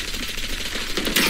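Valorant gunfire, a brief loud burst of rapid shots in quick succession, close and unaccompanied by talk, lasting just over a second.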